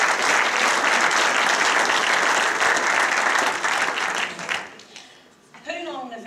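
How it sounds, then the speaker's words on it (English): Audience in a hall breaking into sustained, dense applause that fills the room, fading out near the end before a voice begins speaking. "could you give them a round of applause"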